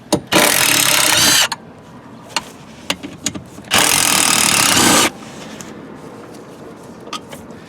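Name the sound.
removing 10mm seat bolts with a tool in a 2002 Suburban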